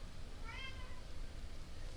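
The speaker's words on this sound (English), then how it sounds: "And if you hear a cat in the background, that is Jack." A cat named Jack gives a single loud meow, short and rising, over a steady low background hum.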